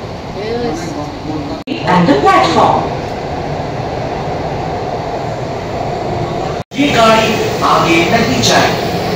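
A Kolkata metro train pulls away from Dum Dum toward Howrah, a loud steady rumble and hum of the carriage filling the clip while people talk over it; two brief sharp breaks interrupt the noise.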